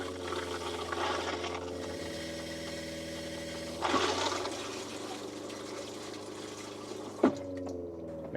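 RV toilet flushing while the camper is being dewinterized, a rushing swell of water at mid-level under a constant low hum, followed by a sharper short gush near the end.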